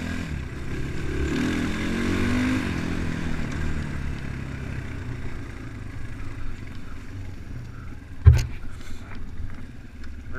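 A Progasi Gaudi 300 scooter rides along a riverbank, its engine a steady, fairly loud drone with wind rush throughout and a sharp thump or knock near the end.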